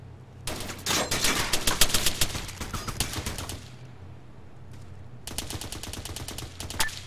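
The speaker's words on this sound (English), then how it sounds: "trying to find where that MG fire is coming from" Machine-gun fire in the video game Arma 3 comes as a sharp, rapid burst lasting about three seconds. After a brief lull, two shorter bursts of automatic fire follow, clattering at close to mid distance.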